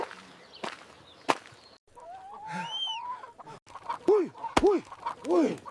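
A chicken clucks and calls in a rural village yard, several close, loud bursts with rising and falling pitch, interspersed with a few sharp clacks and knocks.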